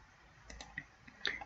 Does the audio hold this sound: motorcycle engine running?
no